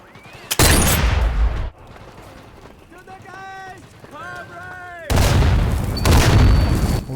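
Weapon test shots in Sniper Elite VR come as two loud, heavy booming volleys with a quieter stretch between them that holds tonal, whistle-like sounds. The shots are close, and no one speaks over them.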